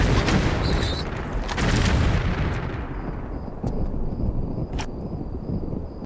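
Grenade launcher fire in Tomb Raider 4: The Last Revelation, inside Menkaure's Pyramid, heard as a dense, roaring boom that fills the first seconds and then fades into a lower rumble with a few faint clicks.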